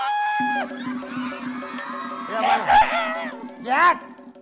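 On an Iranian children's television show, a person's voice imitates a rooster's crow, giving several drawn-out, rising and falling calls close up, with a brief held tone at the start.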